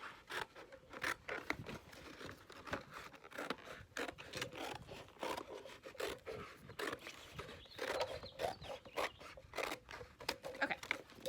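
Scissors cutting a cardboard box panel for a solar oven, a quiet close run of rhythmic snipping and scraping crunches repeating steadily throughout.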